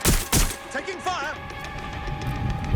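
Gunfire in the video game Watch Dogs: Legion, two sharp close shots at the start followed by scattered lighter pops beneath overlapping game voices and chatter.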